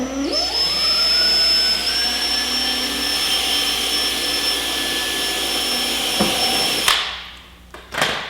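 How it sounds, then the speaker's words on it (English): Power drill boring holes in the upper fairing of a Honda CBR1000RR race bodywork for windscreen mounting; a steady whining spin-up holds for several seconds, then cuts off, followed by a couple of short clunks and bursts. "we're going to be drilling holes for the windscreen"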